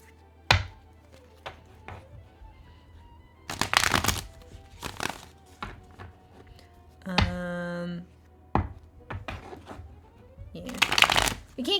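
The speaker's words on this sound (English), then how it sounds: "Card shuffling stuff." Tarot cards are shuffled in several loud bursts of riffling and snapping, with sharp taps and thunks of the deck between them, close up in a quiet room.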